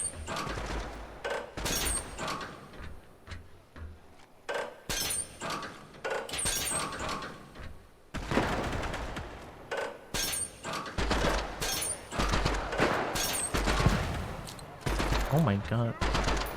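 Rapid gunfire and sharp shattering cracks ring out during a base raid in a video game, with repeated bursts through the clip and a voice talking over the action.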